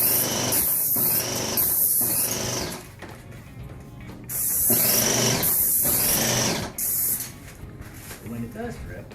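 A paint spray gun spraying cabinets hisses in several sharp bursts, starting and stopping in an uneven rhythm, with quieter gaps between passes and a little faint talking.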